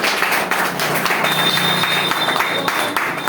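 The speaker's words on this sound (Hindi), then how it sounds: "तो सर एक बार अपने लिए तालियां हो जाए।" Audience applause at a seminar on earning money breaks out as a dense, steady patter of many hands, loud and sustained for a few seconds, with a faint thin tone running beneath it.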